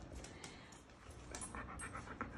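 A six-year-old flat coat retriever pants with quick, soft, rhythmic breaths at close range, faint and steady throughout with no voices.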